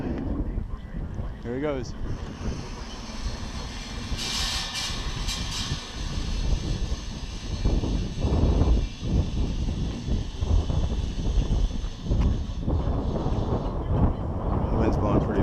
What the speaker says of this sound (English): The wind's blowing pretty bad.